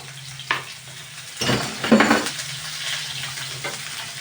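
Onions sizzle in hot oil in a pan after mustard seeds have popped, with a few scraping stirs and a louder hiss as they go in, close and unaccompanied by talk.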